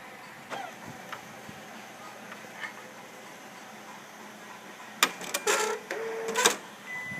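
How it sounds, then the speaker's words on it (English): A laser printer, model M205FW, fails to feed paper. It gives faint scattered clicks and ticks, then a cluster of louder mechanical whirring and clattering bursts near the end. "it doesn't suck the paper up, doesn't feed the paper properly, makes this annoying sound"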